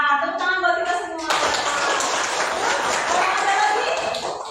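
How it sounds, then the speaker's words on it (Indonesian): After a brief spoken line, a classroom group at an economics teacher-training lesson breaks into sustained, dense clapping. The applause continues steadily for several seconds at close range before tapering off. "Tepuk tangan buat kita semua"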